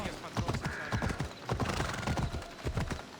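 Horse hooves clip-clopping in a steady rhythmic gait with a whinny, from Assassin's Creed Odyssey gameplay, fairly close and continuous under game ambience.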